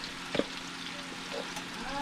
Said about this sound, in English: when fried potatoes are cooking